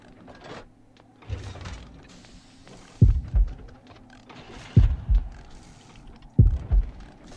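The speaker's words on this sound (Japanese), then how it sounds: "心音が緩やかになってますね。" A slowing heartbeat in the Horrorfield survival horror game, three deep low thumping pulses spaced well apart over a faint ambient hum.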